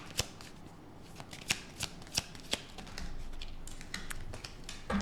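Tarot cards being shuffled at close range, a soft continuous riffling broken by several sharp slaps and taps as the deck is handled, with no talking.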